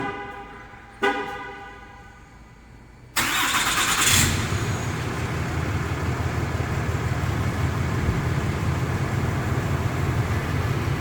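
A 6.7 Cummins diesel pickup truck engine on stock exhaust cranks and starts after a couple of short clicks, then settles into a steady, quiet, rumbling idle that continues to the end.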